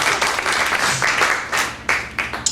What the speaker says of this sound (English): Clap your hands if you've heard sneezing is like an